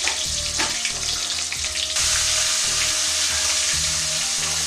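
Eggplant slices dropped into hot oil sizzle and crackle up close, the frying growing louder and denser partway through and then holding steady.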